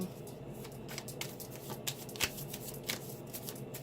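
Tarot cards being shuffled by hand, a steady run of soft riffling flicks and slaps with one sharper snap near the middle, close and fairly quiet with no talking.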